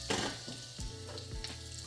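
Tempering for Gujarati handvo crackles in hot oil as curry leaves go in, making a dense, steady, close sizzle with a couple of brief louder pops.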